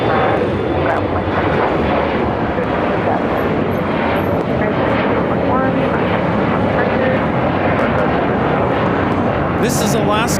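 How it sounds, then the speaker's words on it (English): An Alaska Horizon Embraer E175 regional jet takes off at LAX, its engine roar steady and loud for the whole stretch, with a voice talking over it. "This is Alaska Horizon 2021 taking off to Bozeman on an E175."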